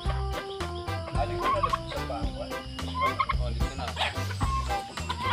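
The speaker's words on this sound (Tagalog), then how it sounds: "yan yung nangahabol na pabo. Mga turkey." A flock of turkeys on a farm in the Philippines gobbles loudly and continuously, overlapping rattling calls close by with a busy farmyard background.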